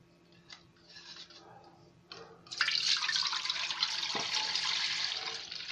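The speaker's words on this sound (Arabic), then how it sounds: "احط فيها العصير" Natural mandarin juice is poured into a large pot for a mahalabia dessert. After a few soft clinks, a steady, close liquid pouring rush sets in and holds for several seconds, with no talking.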